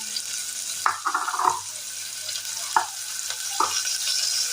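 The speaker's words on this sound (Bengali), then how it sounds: "সম্পূর্ণভাবে পেঁয়াজের কুচিগুলো আমি দিয়ে দিলাম। এবার এটা একটু ভাজা ভাজা হতে দেবো।" Sliced onions fry in a pan with a steady, bright sizzle, broken by several short scraping stirs close by.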